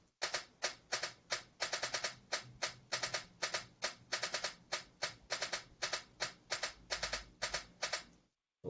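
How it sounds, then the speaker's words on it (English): Synthetic noise bursts fire at random intervals, crisp clacking pulses like a typewriter being struck, loud and alone for several seconds with no talk. "here's like noise bursts arranged in a random interval"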